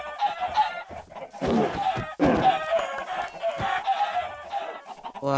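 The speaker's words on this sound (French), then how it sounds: "Ok, eux, ils n'aiment pas les poules." Minecraft chickens cluck and squawk continuously, a dense flock of overlapping calls close by with sharp bursts, sounding like game audio rather than a real yard.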